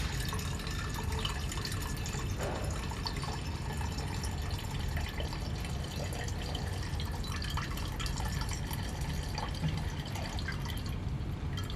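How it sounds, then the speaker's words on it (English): Liquid draining and dripping as the lower aqueous layer is run off from a separating funnel in an agrochemical research laboratory, a soft continuous trickle with scattered drips, fairly quiet and steady. "He runs off the lower, aqueous layer, leaving the top solvent layer."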